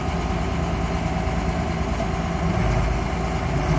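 A P-pump Cummins-powered truck engine runs steadily through its transmission gears, a continuous close drone of low rumble holding at even loudness without pause.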